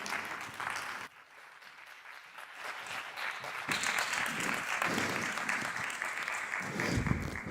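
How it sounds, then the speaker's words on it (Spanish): Applause from a conference audience at an AI and robotics festival, sustained dense clapping that dips briefly then swells and holds steady, filling the hall without any voices over it. "Un aplauso para él."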